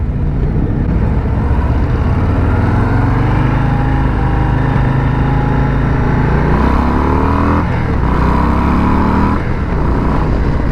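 A 2022 Harley-Davidson Low Rider with the 117 V-twin and six-speed gearbox pulls away from a stop, its loud, close engine note rising steadily through the revs, with clear gear shifts and the pitch climbing again after each.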